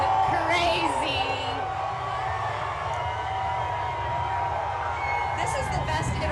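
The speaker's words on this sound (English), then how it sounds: "Oh, the crowd is going crazy." Crowd whooping and cheering at the OKC Thunder victory parade after beating the Indiana Pacers, a loud sustained roar with scattered yells, with a voice talking over it.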